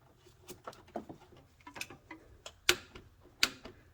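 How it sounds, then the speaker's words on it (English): A torque wrench on a serpentine belt tensioner bolt clicks while the bolt is torqued down. Sharp close ticks and taps repeat irregularly, with two crisp snaps near the end and no talking. "Now the last thing we want to do is go ahead and just get a torque wrench on it"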